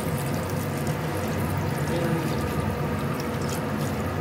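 Rice-washing water is poured into a cooking pot for Kapampangan chicken tinola, a continuous splashing stream over a low steady hum from the kitchen, with no talking.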